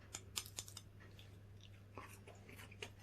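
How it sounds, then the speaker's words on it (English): Crunchy chewing of an oven-heated Mexican chicken fajita slice with short crust pastry, a few faint close bites and crunches scattered over a low steady hum. "there's some crunch to it, like you should get from a short crust pastry now."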